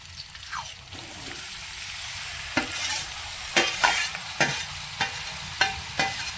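Vegetables frying in a little hot oil in a pan for spicy Maggi masala noodles: a continuous soft sizzle broken by repeated sharp scraping strokes of a stirring spoon, close and fairly quiet.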